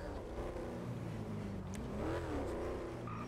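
Car engine accelerating and revving in a roleplay video game, a steady, loud, continuous drone that rises slightly in pitch and swells toward the end, heard alone without talk.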